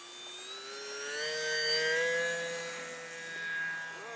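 Small plane engine droning overhead, a steady tonal hum that swells and fades slightly as it passes, heard alone at moderate distance in an outdoor setting.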